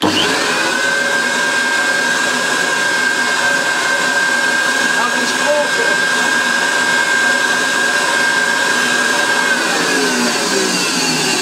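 Goblin Rio 800 vacuum cleaner running steadily with its floor tool on carpet, a loud continuous whine and rushing airflow held throughout at close range.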